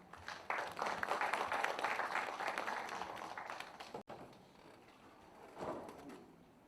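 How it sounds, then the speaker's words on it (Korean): An indoor audience at a book concert for a poetry collection claps to welcome a speaker: a burst of many hands that swells, holds for about three seconds, then thins and stops, with a few scattered claps afterwards. "박수로 모시겠습니다"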